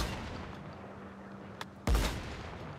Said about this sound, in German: Versuch weiter auf den zu schießen.